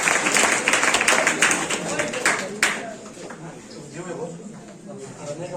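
An audience at a coaching centre's test-results announcement claps for students, a few seconds of brisk clapping that gives way to people talking.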